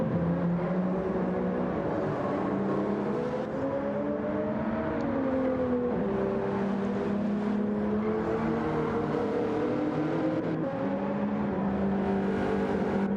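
Supra race car engine in a racing video game at the Barcelona National layout, a loud continuous drone that rises and falls through gear changes, with other cars' engines layered in and no talk.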